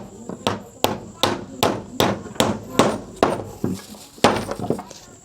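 Nail hammering on a house under construction, a steady run of about a dozen sharp metallic blows at an even pace, close and loud, with a short pause before the final few strikes.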